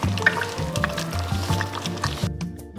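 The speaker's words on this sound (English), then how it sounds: "add the liquid back into the pot" Braised beef consommé for birria tacos pours back into a cooking pot, a steady liquid splash and gurgle with dripping, heard close up alone over a low background hum.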